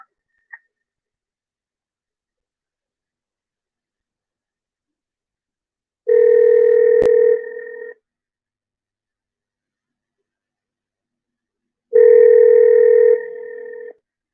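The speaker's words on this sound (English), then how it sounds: "let's see what happens when I call the phone number here" Two long electronic phone rings sound on a call line, each about two seconds, separated by silence, clear and alone with no talking.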